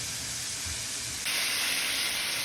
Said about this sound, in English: we're gonna brown all the sides of the beef